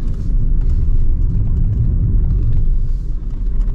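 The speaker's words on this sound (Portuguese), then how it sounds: "Até o momento é um carro agradável de dirigir." A BYD Yuan Pro SUV of nearly 180 horsepower drives on a track, its loud, close, steady road and drivetrain rumble filling the cabin without a break.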